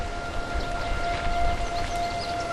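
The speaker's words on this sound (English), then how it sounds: "That's a 12 o'clock siren" A distant noon town siren in Chautauqua holds a steady wailing tone over faint background noise outdoors.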